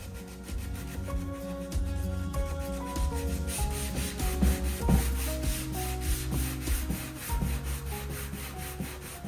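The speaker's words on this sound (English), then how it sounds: "I'm switching over to this little detail sanding grip to smooth out the filler in here instead" Hand sanding of wood filler on a painted thrift-store nightstand with a small detail sanding grip, a continuous close scratchy rubbing in quick back-and-forth strokes, heard alone for several seconds with no talk.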